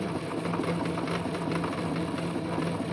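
A sewing machine stitches a cloth menstrual pad in a steady, fast mechanical whir with rapid needle ticking, close and continuous, with no speech.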